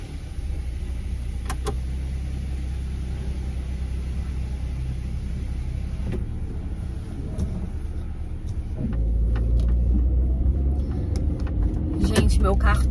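A car is driven along, its steady low engine and road rumble running throughout, swelling slightly louder near the end, with a few faint clicks and rattles from the cabin.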